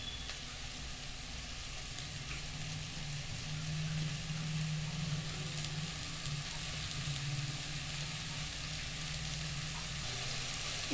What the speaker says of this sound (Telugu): సిమ్లో పెట్టుకొని ఆయిల్లో కొంచెం ఫ్రై అయితే బాగా టేస్ట్ ఉంటుంది